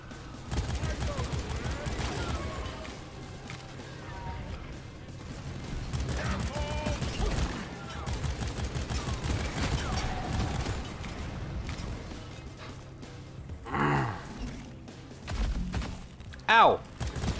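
Rapid bursts of video game gunfire crackle in uneven volleys under a voice talking, with a couple of louder isolated shots and thumps toward the end.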